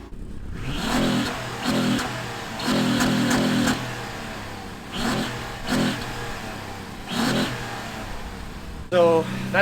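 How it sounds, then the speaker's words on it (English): A 2008 Honda Accord V6 coupe with stock exhaust revs in several sharp bursts, each climbing and falling back, with a steady idle between and a brief voice near the end. "So that's basically going to be the stock exhaust."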